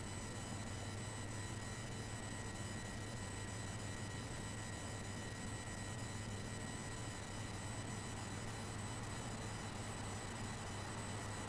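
Simulated Airbus A330 takeoff roll at Frankfurt in Microsoft Flight Simulator X, a steady loud engine roar with a low rumble and a high whine held constant throughout, with no talking.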